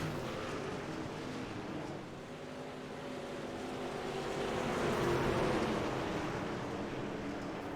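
Race trucks roar around the Eldora Speedway dirt oval under green flag in a heat race, a steady, loud engine drone that swells midway and stays on without any talk.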